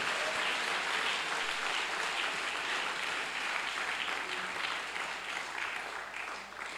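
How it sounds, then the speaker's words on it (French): A church congregation applauds loudly, a dense, sustained wash of clapping that stays strong throughout and eases slightly toward the end. "Est-ce que nous pouvons acclamer très fort pour cette bonne parole?"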